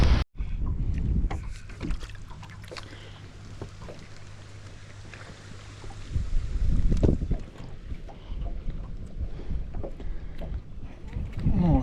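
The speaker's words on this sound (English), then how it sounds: "definitely windy out here" Wind gusting outdoors by the water on a crappie fishing and camping trip, a steady rushing roar with buffeting microphone noise swelling in stronger gusts, no talk.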